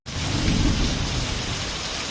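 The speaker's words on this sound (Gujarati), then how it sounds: "ગાજવીજ સાથે વરસાદે તો ભૂકા કાઢી નાખ્યા" Heavy rain pours steadily while low thunder rumbles through in Palitana, Gujarat, a dense, continuous storm roar with no voices.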